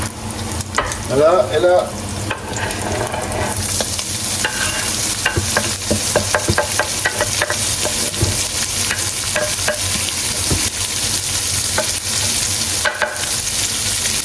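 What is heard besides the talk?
garlic and onion sautéing in olive oil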